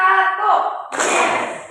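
A class of students seated in groups gives a single loud, unified clap during an ice-breaking routine, heard right after a voice calls out the cue.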